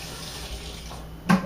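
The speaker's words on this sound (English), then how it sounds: "Let me rinse my hands quickly." A kitchen tap runs as hands are rinsed beneath it, a steady close water hiss with a brief splash toward the end and no talking.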